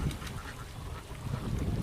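Khaki Campbell laying ducks, part of a flock of about 700 on a small pond farm, quack in overlapping nasal calls over a constant low barnyard murmur, nearby and fairly loud.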